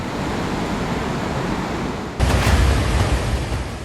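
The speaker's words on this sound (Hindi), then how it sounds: "ये सिक्किम में आए सैलाब का वो शोर है जिसे सुनकर जहन में दहशत पैदा हो गई" Roaring flood water in Sikkim rushes as a steady, broadband wash of noise, growing louder and rougher partway through, with no voices present.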